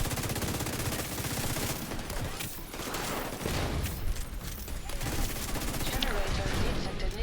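Near-constant automatic gunfire fills a video game battle, loud and dense, with rapid bursts overlapping almost without pause.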